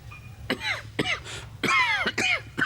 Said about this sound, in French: Vous devriez soigner votre toux.